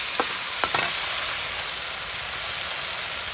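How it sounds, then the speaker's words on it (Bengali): Lightly fried fish pieces for a fish curry are stirred in a hot pan, giving a steady, close sizzle with a few sharp scraping clicks near the start and no talking. "নাড়িয়ে চাড়িয়ে নিতে হবে"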